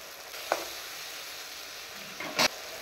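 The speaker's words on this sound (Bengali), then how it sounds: "মশলাটা একটু ভালো করে কষিয়ে নেব।" Spice paste of cumin, coriander, ginger, onion, chilli powder, turmeric and salt fries in a pan with a soft steady sizzle, punctuated by two brief scraping stirs.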